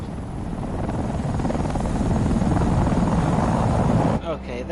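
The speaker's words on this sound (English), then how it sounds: "Okay, that's a loud-ass helicopter." A loud helicopter in the video game Batman: Arkham Knight roars with thudding rotor beats throughout, then cuts off abruptly as a voice begins to speak.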